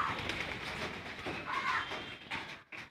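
Homer pigeons cooing at their evening feeding, soft throaty coos repeating close by over a faint background hum and rustle.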